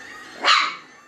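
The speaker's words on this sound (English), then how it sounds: "The only one that was barking was Lilu" A puppy gives a single sharp bark, close and fairly loud, rising out of quiet background.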